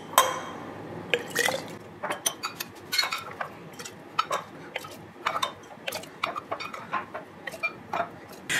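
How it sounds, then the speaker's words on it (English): Overnight oat mixture spooned from a bowl into three glass mason jars, giving a string of soft clinks and scraping taps of a spoon against glass and bowl, with small wet plops, close and fairly quiet, no talking. "we're going to take the overnight oat mixture and we're going to divide it between 3 mason jars"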